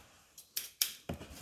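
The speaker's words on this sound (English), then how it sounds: "scissors." A pair of scissors handled while sorting through items in a packed storage unit, giving a few sharp, close metallic snips and clicks in quick succession, quiet overall, with no talking.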